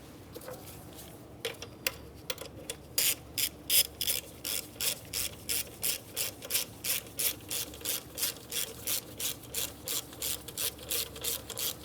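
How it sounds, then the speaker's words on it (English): A ratchet wrench tightens the alternator nut on a 2003–2011 Mercury Grand Marquis, starting with some scraping and then settling into a long, steady series of crisp, evenly spaced clicks, quiet and close. "start the nut on there, bottom it out, and then torque it to 106 inch-pounds."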